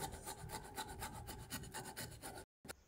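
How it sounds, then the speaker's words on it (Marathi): Pumpkin being finely grated by hand on a kitchen grater for paratha, a steady close rasping scrape in quick repeated strokes that stops briefly near the end. "छानपैकी असा मस्त बारीक किसून घ्यायचा"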